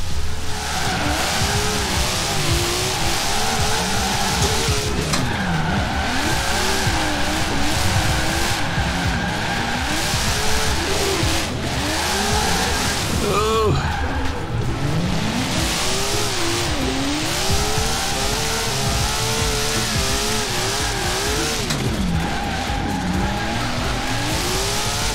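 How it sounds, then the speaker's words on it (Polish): Car drifting in the Forza Horizon racing game, engine revving up and down in long sweeping surges while tires skid and squeal continuously through sustained slides, loud and close throughout. "Tutaj ciężko się utrzymać w takim jednym ślizgu."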